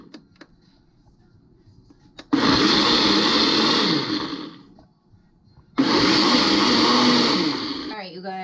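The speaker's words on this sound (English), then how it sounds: "I'm going to blend it on my NutriBullet" A NutriBullet blender whirs loudly as it blends raspberries and other ingredients for a berry vegan cheesecake, running in two long bursts separated by a short pause.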